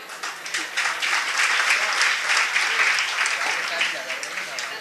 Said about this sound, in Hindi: सब ताली बजा रहे